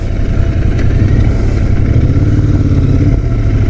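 A motorcycle engine runs steadily while riding on a hot highway day in India, a loud, continuous close-up drone with mild fluctuations and wind rumble and no talking.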